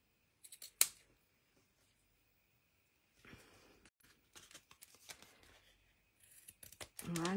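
Scissors snip through string, with a sharp cut near the start followed by scattered rustling and handling noises at close range, ending in a brief voice.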